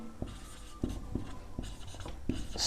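A pen writing on paper during a maths lesson, a series of close, soft scratchy strokes with sharp taps at irregular intervals, heard alone without talk.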